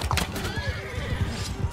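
A horse archer's horse in Mount & Blade II: Bannerlord gallops close by, with rapid, heavy hoofbeats pounding in quick rhythm and a whinny cutting through near the start, loud and with no talk.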